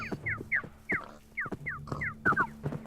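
A loud flock of birds in a modded Minecraft survival game gives repeated sharp, descending squawks in quick succession over a low steady hum.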